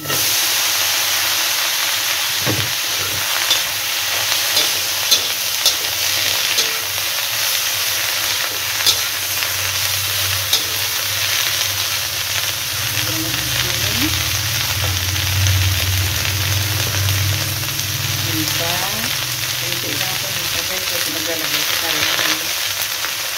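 Cabbage fries in butter in a hot pan over medium heat, giving a loud, continuous sizzle and steamy hiss for the whole stretch, with occasional stirring knocks and no talking.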